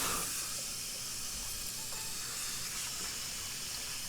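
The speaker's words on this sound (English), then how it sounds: "I'm going to actually clean the filter with just hot water in the sink here" Hot tap water runs steadily into a kitchen sink while an LG dishwasher filter is rinsed, giving a constant close broadband hiss with no breaks and no voices.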